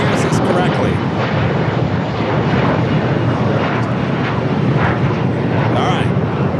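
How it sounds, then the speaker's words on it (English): A jet airliner takes off at Los Angeles International Airport with a loud, sustained engine roar that rolls on steadily throughout, and a voice talks over it. "We got a plane taking off."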